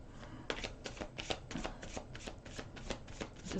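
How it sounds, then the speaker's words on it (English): Slippery tarot cards being shuffled by hand, a steady run of crisp riffling bursts roughly every few tenths of a second, close and fairly quiet with no talking. "I'm going to shuffle these a few times"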